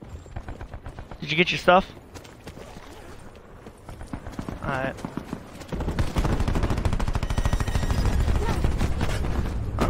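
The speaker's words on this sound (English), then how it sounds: "Gunshots are getting close" Gunfire from the video game Black Ops 4 Blackout rattles in repeated bursts, building into a loud, sustained stretch of rapid shots near the end, while a player speaks briefly over it.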